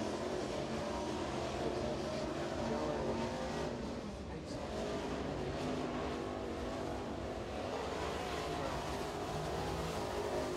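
A crate race car laps a short oval track during qualifying, a continuous broad engine roar from a distance with a slight dip and swell as it moves around the circuit, under faint commentary.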